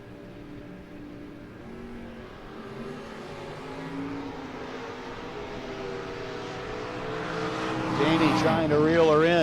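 A 1968 Camaro drag racing down the strip at a No-Box 660 Shootout, its engine a broad steady roar that swells louder toward the end, with an announcer talking over it.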